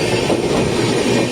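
The Dadar–Bhagat Ki Kothi train passes close by, a dense, loud, continuous rumble of wheels and carriages.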